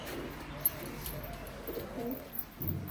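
Pigeons in a home loft give a few soft, low coos over a quiet background, heard up close but faint, with no one talking.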